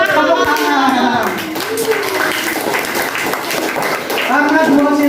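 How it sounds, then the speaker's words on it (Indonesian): A group claps hands in a noisy student setting, with quick, uneven clapping running beneath loud overlapping voices that talk over it throughout. "Tepuk tangan"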